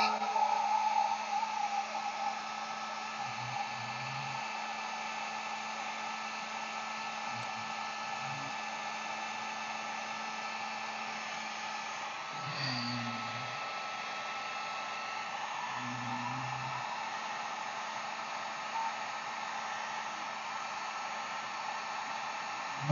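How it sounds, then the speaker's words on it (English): Heat gun melting a solder shrink-wrap connector while fitting a new electric fuel pump on a 1984 Subaru, a continuous even blowing hiss that holds steady throughout at close range, with a few faint low knocks. "As soon as you start heating it up with the heat gun, she melts in there in place"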